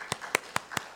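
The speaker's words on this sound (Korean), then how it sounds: "우리 김나연 집사님, 우리 찬양대 대원으로 우리 박수로 환영해 주겠습니다" Church congregation clapping to welcome a new choir member during Sunday worship, heard as five sharp, evenly spaced claps, fairly quiet and close.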